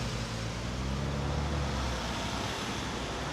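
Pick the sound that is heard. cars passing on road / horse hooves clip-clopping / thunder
cars passing on road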